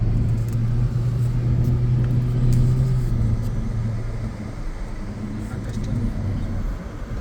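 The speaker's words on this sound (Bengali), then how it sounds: "হাই স্পিডে চালাবো গাড়ি যদি হাওয়া না থাকে হাই স্পিড চালাবো" A car travelling fast on the road from Dhaka toward Munshiganj and Mawa Ghat produces a steady low rumble of engine and road noise that eases slightly toward the end, with faint talk inside.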